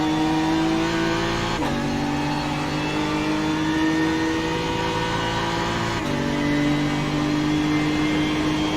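Race car engine in iRacing at Brands Hatch holds a steady loud high whine throughout, with two sharp shifts where the pitch drops and climbs again as it accelerates; no talking.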